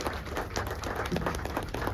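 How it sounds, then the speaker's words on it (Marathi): An audience at a youth day interview event applauds, a dense, steady wash of clapping that fills the whole moment without a break. "जोरदार टाळ्या म्हटलं पाहिजे करा"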